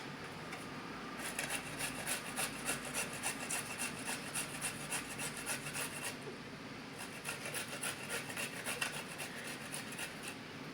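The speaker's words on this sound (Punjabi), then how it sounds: "ਹੁਣ ਇਹਦੇ ਵਿੱਚ ਆਪਾਂ ਕਰ ਦਾਂਗੇ ਅਦਰਕ ਨੂੰ ਕੱਦੂਕਸ਼ ਥੋੜਾ ਬਰੀਕ ਕਰ ਰਹੇ" Ginger rubbed on a kitchen grater for dahi bhalle, a close, steady rhythmic rasping of repeated strokes that pauses briefly midway and then resumes.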